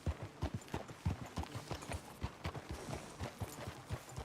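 Steady clip-clop of horse hooves at a walking pace in Red Dead Redemption 2, regular sharp knocks close by over a low background hum.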